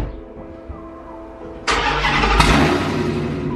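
A modified car engine cold-starts: a low idle rumble suddenly bursts into a loud, roaring catch at about the two-thirds mark, then holds a harsh, raspy high idle with a further surge, close and loud with no talking.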